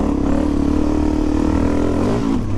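A Suzuki DRZ400 motorcycle rides around a backyard with a continuous, close, loud engine note that rises in pitch near the end as the throttle opens.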